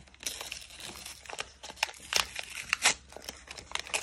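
Crinkling plastic wrapper of a McDonald's 25th anniversary trading card pack being torn open, a run of close, sharp crackles and rustles with louder bursts as it rips.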